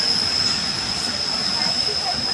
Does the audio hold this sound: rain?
no